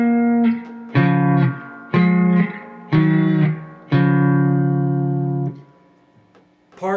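A slow, deliberate run-through of the introductory riff from a song on guitar: five sustained, ringing notes struck about a second apart, the last left to decay before a new note enters, played alone without talk.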